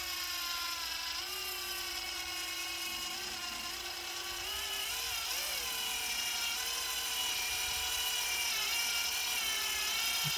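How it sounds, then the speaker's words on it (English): Electric screwdriver spinning steadily for about ten seconds as it threads pro duty turnbuckles into plastic ball cups on a Tekno ET410 RC car, a close, continuous whining motor with a pitch that shifts slightly, and no talk. "I can pop it on my electric screwdriver here, which is a whole lot easier."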